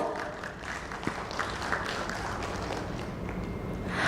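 A hall audience at an insurance summit and awards event applauds a panelist walking on stage, a moderate, somewhat distant wash of clapping with low rumble underneath.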